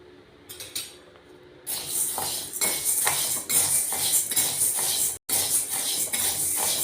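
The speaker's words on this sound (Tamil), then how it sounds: "கருப்பு உளுந்தையும் நல்ல வாசனை வர அளவுக்கு வறுத்துக்கோங்க." Black urad dal roasting in a pan while being stirred gives a continuous dry rattling scrape with repeated spoon-on-pan clinks, close and fairly loud, with no talking.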